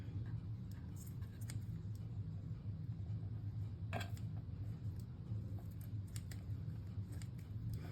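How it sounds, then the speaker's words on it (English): Scissors snip through thick-crust cheese and tomato pizza in a few scattered, crisp cuts over a steady low hum, moderately close and fairly quiet. "I'm going to use my scissors instead."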